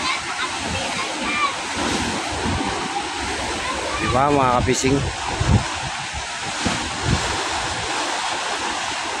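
Rough surf on Manila Bay churns as a steady, loud wash of waves and wind, with someone briefly speaking over it partway through.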